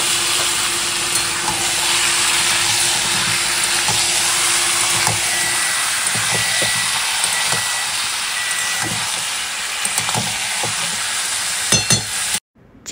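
Marinated chicken added to potatoes and onions already fried in oil sizzles loudly and steadily, with scattered crackles and occasional stirring scrapes, until the sound cuts off abruptly near the end.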